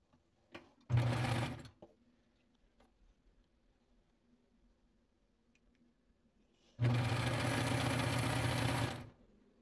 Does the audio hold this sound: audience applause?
no